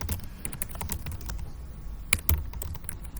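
Typing on a computer keyboard while entering command-line commands: a steady patter of close, soft key clicks with a couple of louder strikes, like an enter key, over faint room noise.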